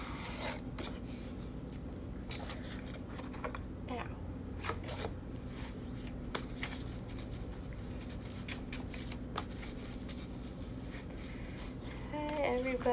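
A Next World Tarot deck being shuffled by hand: soft, steady papery rustling and riffling with scattered light taps, close and quiet, growing slightly busier near the end.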